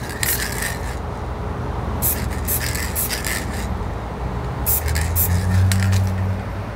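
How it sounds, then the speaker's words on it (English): Several bursts of black aerosol spray paint hiss, each lasting under a second, separated by pauses, over a steady low background rumble. "I'm going to spray some black here just to add"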